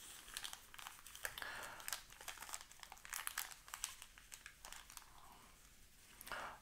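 Aluminum foil crinkles and rustles on a digital scale, a steady run of close, quiet crackling with no talk.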